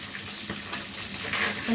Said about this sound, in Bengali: চিংড়ি মাছগুলো ভাজা